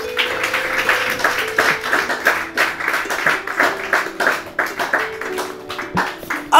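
A church congregation claps in praise of God, giving steady, uneven bursts of hand-clapping that swell and dip in waves, fairly close, with a faint tone and voices beneath.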